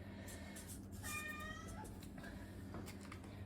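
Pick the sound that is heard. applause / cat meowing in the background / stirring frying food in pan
cat meowing in the background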